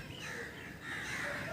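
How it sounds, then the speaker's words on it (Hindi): Crows cawing in a village in the early morning, a continuous hoarse chorus of bird calls at a moderate distance, with no clear speech. "और कौवे भी चहचहाते जा रहे हैं"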